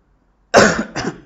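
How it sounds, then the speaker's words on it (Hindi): Two sharp coughs close to the microphone, the first louder and longer, the second shorter, after a moment of silence. "आपका सेशन शुरू करते ही मुझे खांसी आती है"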